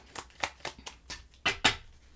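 A deck of cards being shuffled up close, six or seven quick riffling bursts in an uneven rhythm, the last two louder.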